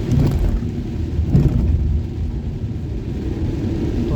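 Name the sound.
rain starting while driving at night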